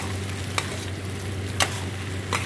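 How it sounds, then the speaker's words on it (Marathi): Sabudana khichdi being stirred in a pan after sugar is added, a steady low sizzle with three sharp scrapes of the spoon against the pan spaced across the clip. "आता हे हलवून एकदम एकजीव करायचं आहे."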